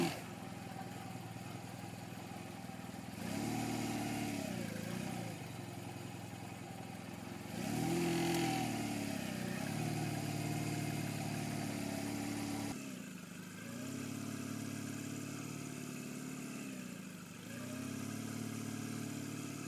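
A motorcycle engine idling nearby, its pitch repeatedly rising and falling as the throttle is opened and released, with brief drops between revs.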